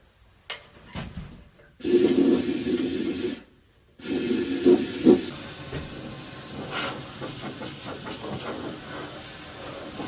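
Rustbuster rust treatment sprayed inside a Land Rover Defender chassis, a loud hissing spray in bursts of a couple of seconds with a short pause, then a longer, steadier spray fading lower.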